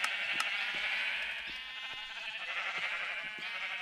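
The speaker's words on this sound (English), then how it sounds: "That is like a metric crap ton of sheep." Many sheep in Minecraft bleat over and over, overlapping calls forming a dense, continuous flock chorus.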